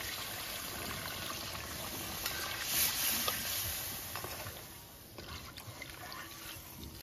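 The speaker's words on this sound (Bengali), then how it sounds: "কড়াই ভরে জল দিয়ে দেবো," Water poured into a wok of braised goat meat in a home kitchen, giving a steady splashing, trickling wash that swells briefly near the middle and fades, with no talk.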